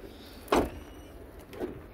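A door on a red imported 2015 Hyundai i10 shuts with one solid thump, followed by a softer, smaller knock about a second later, heard close up with no voices.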